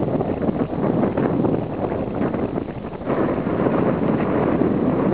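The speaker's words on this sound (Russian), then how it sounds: "Ветер какой." Strong wind by the Sea of Azov buffets the microphone in a steady, rumbling roar, loud and unbroken from start to finish.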